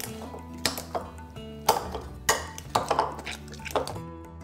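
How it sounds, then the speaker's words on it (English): A fork or spoon mashes avocado with lemon juice in a bowl, making a run of sharp metallic clinks and taps against the dish, some louder than others, with quiet gaps between them. "And then I'm gonna mash it up."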